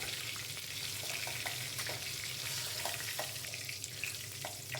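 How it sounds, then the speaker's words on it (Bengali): Boiled eggs frying in oil in a pan, a steady close sizzle with soft scattered stirring clicks. "ডিমগুলো ভাজা হয়ে গেছে।"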